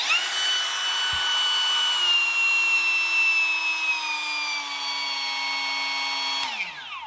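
RIDGID cordless router running with no bit fitted: a loud, steady high-pitched motor whine that holds for several seconds, dips slightly in pitch as the speed changes, then cuts off abruptly and spins down.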